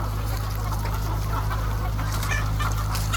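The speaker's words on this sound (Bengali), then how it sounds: "এখানে প্রায় চার হাজার মুরগি আছে" Chickens on a poultry farm with about four thousand birds cluck in an overlapping chorus over a constant low mechanical hum, dense and fairly loud throughout, with no talking.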